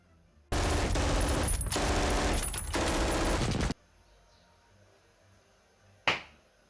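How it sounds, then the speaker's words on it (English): Rapid bursts of automatic gunfire crackle for a few seconds, then cut to near silence before a single sharp distant blast rings out, from a war film. "It's the explosions that get to me every time."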